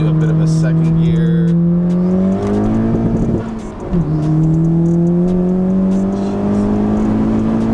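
A 2016-or-later Honda Civic with an ACT HD Street clutch accelerates hard in second gear, its engine note climbing steadily and loudly, briefly dropping at a shift, then rising again close to the microphone.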